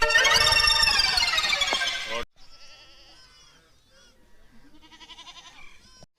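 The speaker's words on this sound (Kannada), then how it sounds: "ಈ ಸೈಡ್ ಮೇಕೆಗಳು." A goat bleats loudly and long at close range for about two seconds, followed by fainter, thinner bleats and calls in the background.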